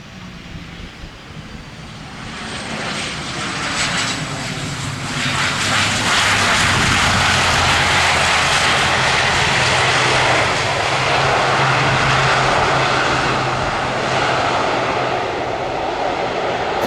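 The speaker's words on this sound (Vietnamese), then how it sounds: "xem những chiếc máy bay hạ cánh trong điều kiện thời tiết gió lớn như thế này" Vasco airliner landing at Tan Son Nhat airport in strong wind, its engine roar swelling from a distant rumble to a loud, sustained broadband blast that holds steady for many seconds, with no voices.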